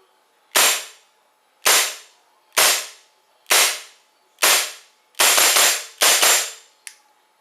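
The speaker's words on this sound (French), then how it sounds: "je vais faire une dizaine de tirs, on va voir ce que ça donne" An airsoft WE Beretta M92 chrome pistol fires about seven sharp, loud shots, spaced roughly a second apart and quickening near the end, followed by a faint final click.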